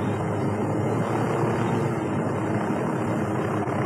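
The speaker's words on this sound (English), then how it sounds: "Oh, the helicopter's tilted." Helicopter in the video game Ghost Recon Wildlands, its rotor and engine producing a steady, loud broadband roar that holds unbroken throughout with no voices over it.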